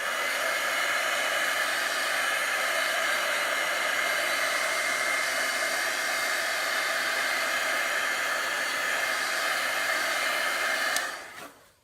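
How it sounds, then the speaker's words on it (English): A heat gun blows over wet chalk paste on a craft sign, a steady loud whooshing roar that runs without a break for about eleven seconds before switching off and fading. "Now I'm going to dry this quickly with a heat gun."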